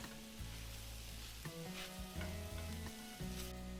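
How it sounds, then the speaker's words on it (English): Tofu scramble cooks slowly with spices in a pan over lowered heat. A faint, steady sizzle sits under a sustained tonal hum, with a few soft stirring sounds. "I like to saute this slowly and let those spices really cook into the tofu"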